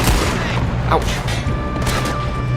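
Gunfire in Red Dead Redemption 2 during a train robbery, a dense continuous barrage of shots mixed with game sounds, with a voice cutting in briefly over the shooting.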